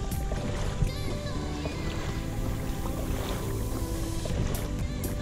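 A 2019 Hobie Outback pedal kayak cruising at roughly six knots, with a steady rush of water along the hull and wind noise on the microphone continuing evenly throughout.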